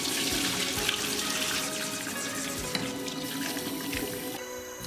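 Pig trotters rinsed under a running kitchen tap, a steady close splash of flowing water with small knocks and shifts as the pieces are handled.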